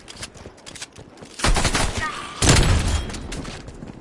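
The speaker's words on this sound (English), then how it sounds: "But you can go the semi-auto shotgun. It's a Gallo." A Gallo semi-auto shotgun fires in a Call of Duty game, two loud close blasts a second apart, each with a long booming tail over quieter game background.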